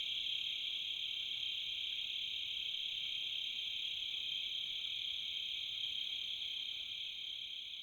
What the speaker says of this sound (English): the sounds of all the crickets and cicadas seemed like those right out of a jungle